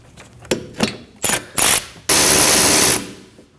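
Ratchet removing rear hub bolts on a 2011-2016 Kia Optima: a few short clicking bursts, then a longer continuous close ratcheting run, loud and with no talking.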